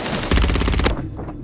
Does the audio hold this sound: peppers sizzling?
no